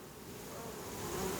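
Honeybees buzz close by at a hive while being fed from a spoon, in a steady, dense hum that swells slightly louder over a moment, with no voices.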